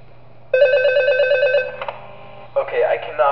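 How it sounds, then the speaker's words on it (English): A telephone ringing in a horror video game, a loud rapid electronic bell trill lasting about a second, followed by a player speaking over faint background hum. "Why is the phone calling again?"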